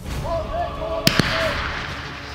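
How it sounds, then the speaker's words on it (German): Two sharp gunshot-like cracks ring out in quick succession during an army basic training exercise in a Brandenburg forest, standing out briefly against a droning background. "Plötzlich wieder Feindbeschuss."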